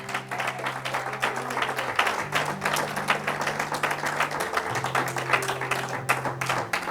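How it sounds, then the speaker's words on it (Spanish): A church congregation applauds, a steady crowd of clapping hands sustained for several seconds over sustained organ or keyboard tones underneath. "Dele un aplauso al Señor"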